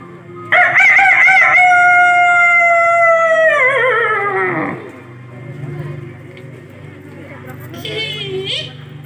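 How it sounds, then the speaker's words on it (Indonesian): A rooster crows loudly once, a long drawn-out call that trails off, followed by quieter background noise. "Terdengar suara ayam jantan berkokok."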